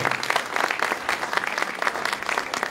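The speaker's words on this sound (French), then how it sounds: "Sous vos applaudissements, merci à la belle équipe." Steady applause from an audience at a beauty pageant event, dense clapping sustained throughout at an even level with no voices on top.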